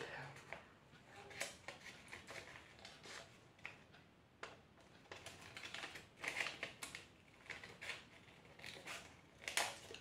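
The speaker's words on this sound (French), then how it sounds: "Et on va venir découper notre pétale là." Scissors snip a flower petal out of a craft kit for home decor, a string of small close clicks and crisp cuts, quiet, with someone speaking French softly at times.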